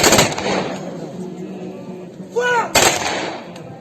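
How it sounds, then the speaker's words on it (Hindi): Guns fire a salute at a military funeral with full state honours in a Tibetan settlement. Two sharp, loud reports ring out about three seconds apart, with a brief high whistling tone just before the second. "अंतिम संस्कार के समय तेंजिंग को गन की सलामी भी दी गई।"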